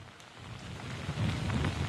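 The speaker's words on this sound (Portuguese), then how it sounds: "Não, chuva torrencial" Torrential rain pounding down during Hurricane Irma in Miami, a dense, continuous hiss of heavy downpour that grows slightly louder toward the end, with no voices.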